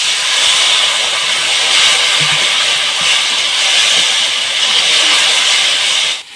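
Water poured into frying spice masala with salt, chopped green chilli and turmeric sets off a loud, steady steam-like sizzle and hiss that lasts several seconds, alone without talk, cutting off abruptly at the end.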